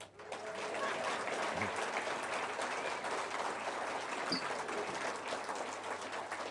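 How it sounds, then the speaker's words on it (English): Crowd applause at a Reform UK conference rally, a broad, continuous wash of clapping from a large audience, with a few faint shouts rising above it. "You can clap for that."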